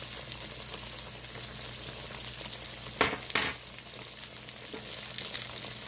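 Green tomato slices sizzle steadily in an overcrowded frying pan, Southern-style fried green tomatoes browning in hot oil, with a couple of brief clatters of a utensil against the pan midway.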